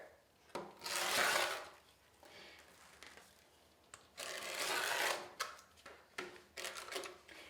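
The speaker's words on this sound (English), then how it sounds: "And I'm using my cutting mat and rotary cutter." A rotary cutter rolls through deco mesh on a cutting mat in two long, crisp, rasping strokes, each with a scratchy crackle. Shorter scraping passes follow, heard close and fairly quiet, with no voices.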